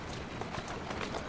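Horse hooves clip-clopping on London streets in the video game Assassin's Creed Syndicate, a quick run of close, rhythmic hoofbeats over a faint background.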